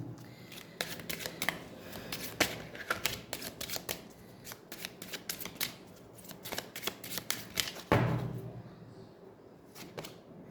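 Tarot cards being shuffled by hand, a rapid run of crisp riffling flutters and slaps with brief pauses between bursts, close and fairly loud, with no talking.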